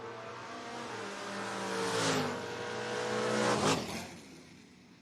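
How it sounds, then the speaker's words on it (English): Drag race cars in a footbrake bracket, a 1970 Chevrolet Nova G-Stock automatic against a 1968 Camaro, roar loudly as their engines rev and pass close by, two surging peaks rising and fading without talk. "G-Stock Automatic 70 Nova 716 dialing taking on Soggy Dunn 68 Camaro dialed in 621"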